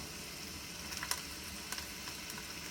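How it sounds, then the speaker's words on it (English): About a cup of onion sizzling in canola oil in a heavy-bottomed pot for Peruvian beef seco, a soft, faint, steady hiss with a few small crackles. "I drizzle a little bit of canola oil, and I'm gonna add approximately 1 cup of onion"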